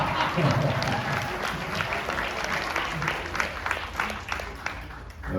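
Audience applause at a Korean community forum on freedom, democracy and faith, a steady crowd clapping at moderate volume for several seconds, with a few faint voices mixed in and a swell near the end.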